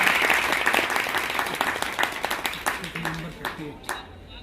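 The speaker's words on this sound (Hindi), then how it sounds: "नहीं पहले तो निशा जी के लिए जोरदार तालियां" Loud audience applause for Nisha at a satsang game event in Indore, dense clapping that gradually thins out and fades toward the end.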